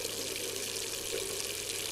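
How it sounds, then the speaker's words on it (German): A bathroom tap running into a sink during face washing, a steady, even rush of water with no pauses. "Dort wäscht er sich sein Gesicht."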